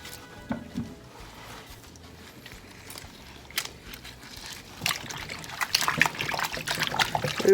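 Goat meat is washed under running water, with a continuous trickle and splash of water, soft sloshing, and occasional clinks from handling, growing louder and busier toward the end.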